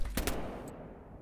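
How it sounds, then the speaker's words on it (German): Two quick gunshots ring out in the survival video game DayZ, sharp and close together, followed by a fading echo in a short burst. "Bei mir Schüsse."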